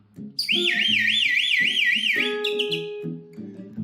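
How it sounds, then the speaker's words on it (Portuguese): A warbling electronic alarm wails up and down in steady loops, loud and up front, over a bouncy musical backing that continues after it stops. "Como é o som do alarme?"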